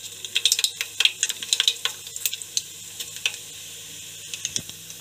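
Mustard seeds splutter in hot oil as a tempering for podi atukulu, a spiced flattened-rice dish, giving off sharp, irregular pops and crackles over a light sizzle, close and fairly loud, with no talking.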